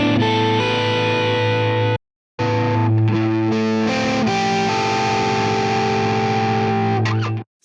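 Electric guitar chords strummed through a Line 6 Helix Stadium amp model, heavily distorted and sustained, with a short silent gap after two seconds, then more ringing chords until the end.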